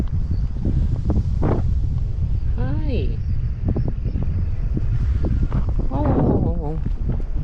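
Steady wind buffets the microphone outdoors in a constant roar, with a few short voices and tonal sounds briefly rising above it.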